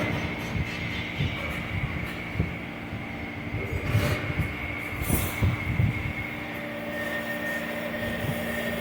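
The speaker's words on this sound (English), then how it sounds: "So instead of bull, so this motor is now running." An electric motor drives a wooden marachekku cold press oil machine, a steady low mechanical hum with rhythmic knocking and grinding pulses from the turning press, close and continuous.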